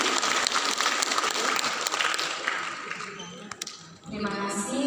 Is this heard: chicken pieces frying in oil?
no